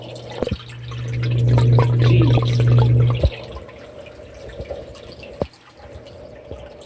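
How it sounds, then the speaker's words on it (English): A phone is dipped into salt water, bringing a few seconds of sloshing, gurgling water followed by quieter drips and splashes, with one brief spoken exclamation. "I dipped this in salt water"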